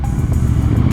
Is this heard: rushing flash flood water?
no